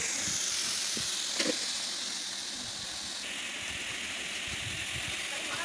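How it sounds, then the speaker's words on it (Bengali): Cabbage frying in a pan on a village stove, giving off a continuous steamy sizzle and hiss with a brief clatter of stirring, while a voice murmurs faintly in the background. "এখন কিন্তু আমি কপিটা দিয়ে দিচ্ছি সুন্দর করে এখন আমি এটা কষাতে থাকবো"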